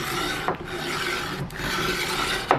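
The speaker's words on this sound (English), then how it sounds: "I tried the Shinto rasp, and this seems to be working much better" A Shinto rasp files a wooden guitar fretboard in steady, coarse scraping strokes, with slight breaks between passes, close and continuous for a couple of seconds.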